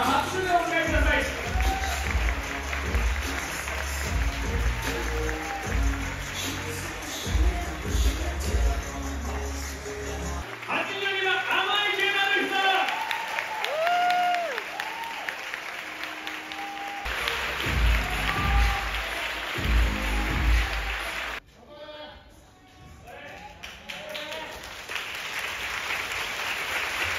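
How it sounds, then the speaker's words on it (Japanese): Audience applauding to welcome a guest at an event, sustained clapping mixed with crowd noise and voices over a long stretch, fading and returning. "皆様拍手でお迎えください"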